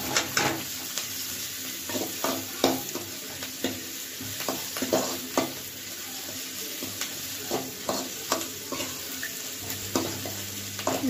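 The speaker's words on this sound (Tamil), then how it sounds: "இந்த ஸ்டேஜில் நம்ம இஞ்சி பூண்டு போட்டுக்கலாங்க." Ginger and garlic being stirred in a hot frying pan while cooking a dish with shrimp, crab and pigeon: a soft steady sizzle with repeated scraping and clinking of a spoon against the pan, fairly quiet, no talk.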